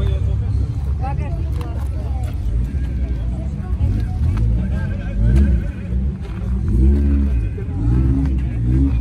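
A car drives past on a town square and revs its engine, a loud low rumble that swells and drops in waves over steady street background, with people talking nearby.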